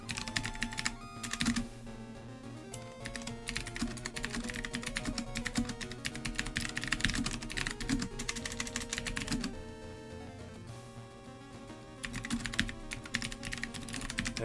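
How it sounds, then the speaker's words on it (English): Rapid, continuous clicking of a mechanical keyboard close by, keys clacking in a busy, uneven rhythm with only a few short pauses. "you can hear all my clickety-clacking because my mechanical keyboard is right next to my microphone"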